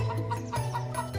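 Roadside chickens cluck in short, soft, repeated bursts, a fairly quiet and uneven murmur of hen calls over a low background hum.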